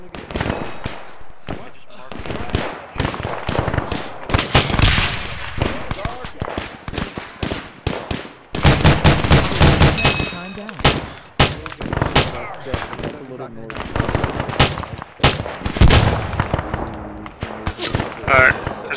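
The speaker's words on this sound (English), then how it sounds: "Shots are incoming." Gunfire rattles through ArmA 3 in a World War II Omaha Beach D-Day battle, loud bursts of rifle and machine-gun shots cracking in rapid irregular volleys, with players talking over the fighting.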